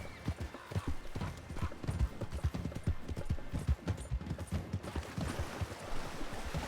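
Horse hooves clip-clop in a steady trotting rhythm in Red Dead Redemption 2, the footfalls close and distinct over faint ambient outdoor sound.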